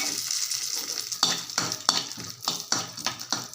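Cashews and raisins fry in hot oil in a pan, giving a steady close sizzle broken by regular, sharp spoon scrapes and stirs.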